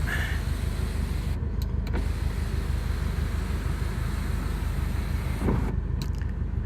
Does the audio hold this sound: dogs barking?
no